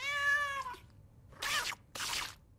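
Ice Cream Kitty from the TMNT Legends video game gives one clear, moderately loud meow, then two short breathy hisses or puffs after a pause.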